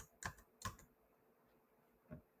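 A few soft, close keystrokes on a computer keyboard, with two quick taps near the start and one more after a short pause, heard alone in a quiet room.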